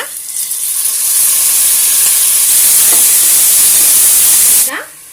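Ground paste hits hot oil with golden-brown fried onions for mutton biryani, giving a loud, steady, bright sizzling hiss that holds for several seconds and then cuts off abruptly.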